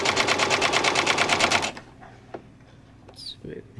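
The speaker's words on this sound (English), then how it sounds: "And then we're going to sew it down." A sewing machine stitches a nine patch quilt block in a rapid, even burst of needle strokes for under two seconds, then stops, leaving faint handling noises and a brief voice.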